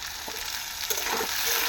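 Potatoes fry in a pan with a steady, close sizzle and a few brief stirring scrapes, no talking over it.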